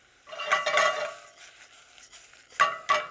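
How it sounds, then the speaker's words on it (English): A spoon scrapes and stirs couscous in oil in a pan, with a soft sizzle underneath and a few distinct scraping strokes, close and moderately loud. "So stir it a little bit so that it is all coated with the oil."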